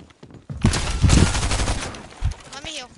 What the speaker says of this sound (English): I gotta get an AR, so I have to shoot with SMG